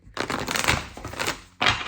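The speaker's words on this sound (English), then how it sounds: "I'm going to shuffle one more time." Tarot cards being shuffled close up, a dense riffling patter that rises and falls over two seconds, with a brief gap before a final burst.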